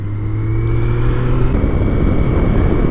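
BMW touring motorcycle being ridden on a sunny road, a steady engine drone with a falling tone early on, then broad wind rush, loud and close with no talk.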